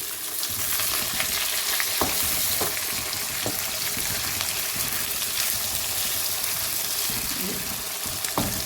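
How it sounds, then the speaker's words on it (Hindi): Tomatoes sizzling and frying in a pan over onions already browned for a kofta and potato gravy, a steady hiss with occasional sharp pops and stirring clatter throughout. "प्याज चूँकि पहले से ही ब्राउन हुआ हुआ, अब इसमें हम टमाटर डाल देंगे।"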